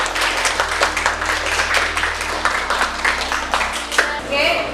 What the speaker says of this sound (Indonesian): aplaus untuk teman kalian yang sudah bisa menyimpulkan hasil dari diskusi kali ini